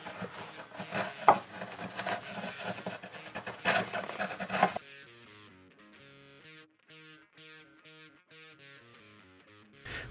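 Hand chisel shaping the neck of a guitar built from 2x4 lumber, giving a few seconds of scraping, rasping wood cuts with sharp bursts, then a sudden change to quieter, steady tonal music.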